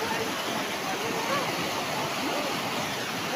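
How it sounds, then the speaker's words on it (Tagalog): Heavy floodwater rushes at a bridge in Barangay Dalig, a dense continuous roar like a waterfall that fills the whole clip loud and steady, with no clear speech over it. "Grabe, laki ng baha dito."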